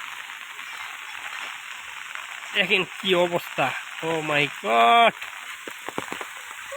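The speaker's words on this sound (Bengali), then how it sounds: "দেখেন একটানা 4 দিন বৃষ্টি," Rain falls in a village with a steady, even patter throughout, while someone speaks over it partway through.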